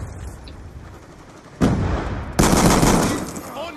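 Shotgun blasts in the Black Ops 2 video game, two abrupt loud bursts with a broad crackling tail sounding close over a low background hum.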